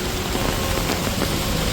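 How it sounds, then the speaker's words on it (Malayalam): Heavy rain pours down on a street in Kannur as someone walks under an umbrella, a loud, close, unbroken wash of hissing noise that cuts off abruptly at the end. "ഹേ ഗായ്സ് നല്ല മഴയാണ്"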